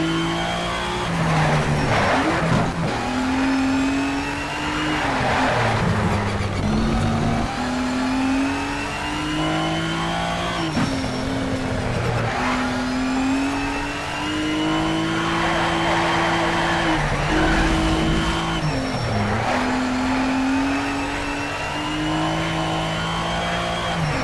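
Race car engine from the video game Shift 2 Unleashed, revving loudly and continuously through corners, pitch dropping on braking and climbing again under acceleration, with brief tyre skids and no talk.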